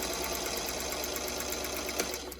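A sewing machine stitches two fabric pieces together with a quarter-inch seam, a fast steady mechanical whirring run, close and continuous for a couple of seconds.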